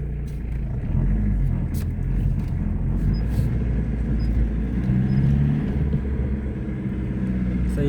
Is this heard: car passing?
yes